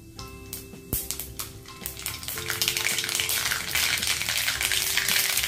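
Mustard seeds hit hot oil in a heated kadhai, starting with a few sharp crackles and pops that swell into a dense, continuous sizzle and spatter, close and fairly loud, with no talk.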